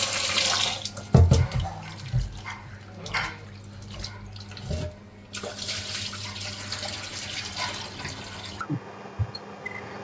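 Goat head meat is washed under a running kitchen tap, with steady water splashing and a few knocks against the vessel as the pieces are handled, before the flow cuts off near the end.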